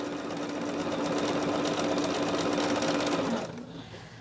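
A sewing machine runs steadily, stitching fabric for a pumpkin-sitting Halloween quilt project, a continuous close whirring hum that stops abruptly near the end.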